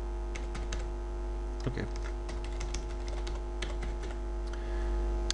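Someone types a password on a computer keyboard, and the close, quick key clicks come in irregular bursts over a low steady hum. A voice speaks briefly.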